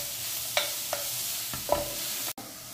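Carrots are sautéed in a pan for a chicken noodle soup, with a soft, steady sizzle and a few quiet scrapes of a spoon nudging them around.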